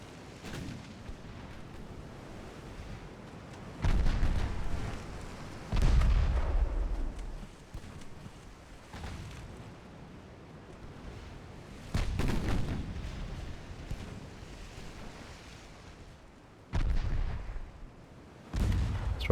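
Heavy naval guns fire again and again in a Ultimate Admiral Dreadnoughts battle against an armored cruiser, with deep booming salvos every few seconds over a constant low rumble of battle noise.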